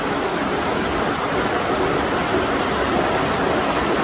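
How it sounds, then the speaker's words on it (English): Water runs continuously down through a limestone cave in Mole Creek's Honeycomb Caves, a dense, steady broadband rush like a small waterfall, loud and unbroken with no voices. "There's like just running water, just running down into the distance."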